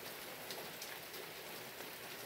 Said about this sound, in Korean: 비 오는 목요일이죠